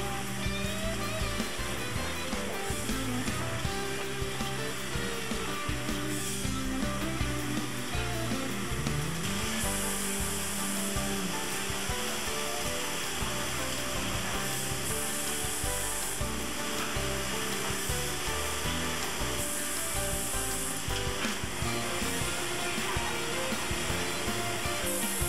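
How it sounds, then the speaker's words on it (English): An inline notcher in a sawmill processes cants on their way to a gang resaw, a dense, constant mechanical roar with rattling and hissing layered through it, loud and unbroken throughout. "The cans then flow through the notcher on their way to the gang resaw."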